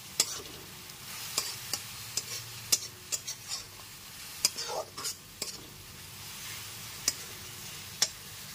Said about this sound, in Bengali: টমেটো পেস্টটা দেওয়ার পরও খুব ভালো মতো কষিয়ে নিতে হবে।